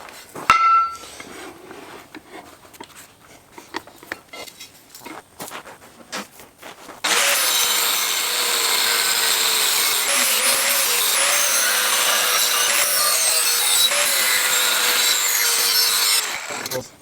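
Short metal strips for a Husqvarna weed eater handle clamp are cut, starting with scattered clanks and handling knocks, then a loud continuous abrasive grinding cut that runs to the end.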